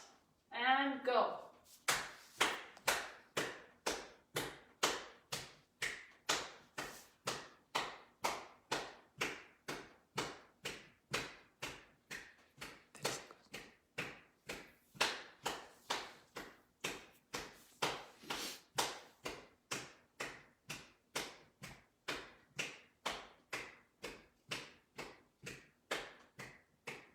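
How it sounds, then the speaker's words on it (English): Steady rhythmic hand clapping with marching during a seated dance exercise, a long, even run of sharp claps about one per half second, moderately close and continuing without pause. "we're going to go for the clap and march for 30 seconds"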